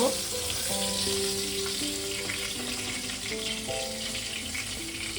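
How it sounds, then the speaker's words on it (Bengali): Pomfret fish sizzles and crackles steadily in hot oil up close, with soft melodic music playing in the background. "আরও দুটো এইভাবে দিয়ে দেবো, দিয়ে এইভাবে আমি ভেজে এগুলোকে তুলে নেব।"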